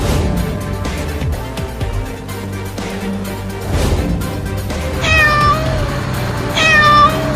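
A cat meows twice, each cry drawn out and high, over steady background music.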